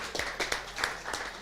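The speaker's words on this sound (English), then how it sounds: "Clap it up again for St. Benedict's, everybody." Brief scattered clapping from a small audience at a school Rocket League championship event cheering the St. Benedict's team, with a few distinct claps over a low background.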